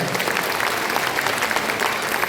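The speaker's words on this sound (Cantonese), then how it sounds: "大家俾一次精彩嘅掌聲佢哋" An audience applauds warmly after a performance by the Hong Kong Auxiliary Police Band at the Yuen Long Arts Festival opening ceremony, with dense, steady clapping filling the hall throughout and no voices over it.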